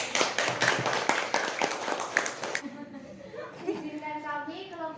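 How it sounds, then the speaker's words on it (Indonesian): A university class claps hands in a quick, lively burst of close applause for a couple of seconds, then falls away as a person starts talking. "Tepuk tangan untuk kita semua."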